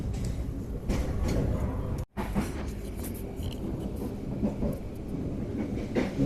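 Onboard an executive-class Sawunggalih passenger train running at 40 to 50 km per hour, a steady dense rumble of wheels on rails continues throughout, with a brief dropout partway through and faint clicks over the roar.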